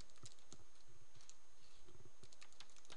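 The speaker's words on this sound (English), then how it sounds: "So I'm going to go ahead and type this" Someone types on a computer keyboard, with quick, irregular key clicks that are close and moderately quiet, no voices.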